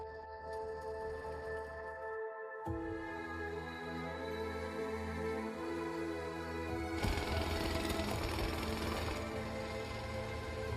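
A motorized auger drills into thick frozen lake ice for winter net fishing in the Altai Mountains at below -40 °C, giving a steady, grinding mechanical drone with shifting pitch that cuts out briefly and then grows rougher and louder.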